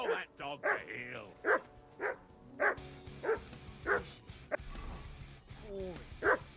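Repeated sharp barks from a dog in Kingdom Come: Deliverance II, a quick cluster at first and then single woofs about every half second, close and clear over quiet game ambience.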